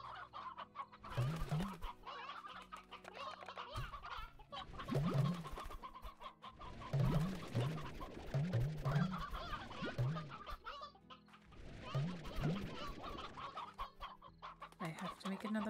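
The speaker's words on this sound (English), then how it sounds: "Do I got too many chickens in this pen?" Chickens cluck in a pen in a video game, a flock giving repeated clucks and squawks in bursts over game background sound, fairly close and clear.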